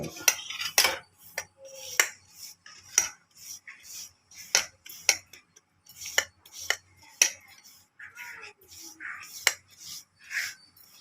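A metal ladle presses ghee Mysore pak into a tray, making a sparse run of faint, close scraping and tapping clinks, each short and bright, spaced irregularly with quiet gaps between them.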